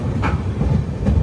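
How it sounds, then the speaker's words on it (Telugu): Pinakini Superfast Express pulling out of Bitragunta, its carriages rolling along the rails with a steady rumble and faint clicking, close and continuous throughout. "బిట్రగుంట నుంచి బయలుదేరింది మన ట్రైన్."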